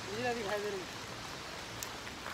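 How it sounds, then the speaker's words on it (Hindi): Steady heavy rain falls on the road to Nainital in January, a constant hiss filling the background while a voice speaks briefly over it near the start. "बारिश जो है अच्छी खासी बारिश हो रही है।"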